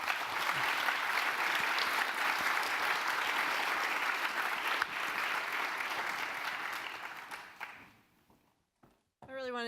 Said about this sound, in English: maybe let's give them a round of applause